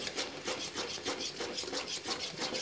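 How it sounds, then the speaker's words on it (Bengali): Spices for katla fish curry are stirred and fried over medium heat in a pan, a quick repeated scraping and rubbing rhythm close by, fairly quiet, with no talking. "মিডিয়াম হিটে মশলা কষিয়ে নেব"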